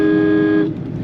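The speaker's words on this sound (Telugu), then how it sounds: "హారన్ కొట్టుకుంటూ చూసుకుంటూ వెళ్ళాలి." A car horn gives one loud, steady honk lasting just over half a second during a downhill drive on a road entering Nellore district. Road noise continues underneath after the honk stops.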